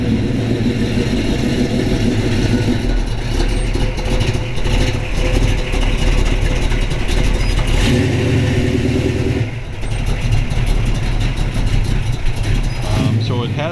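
A 1965 Pontiac GTO's tri-power 455 cubic inch V8 of about 600 hp rumbles loudly at idle, then revs up with deep throaty surges, voices talking faintly underneath.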